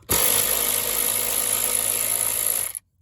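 A power tool whines loudly and steadily for nearly three seconds, then cuts off abruptly into silence, during a blower resistor replacement on a 2003 Chevy Silverado.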